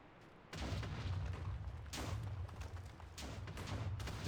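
Video game explosions from Halo on Heroic difficulty boom in a series of bursts over a steady background rumble, moderately loud.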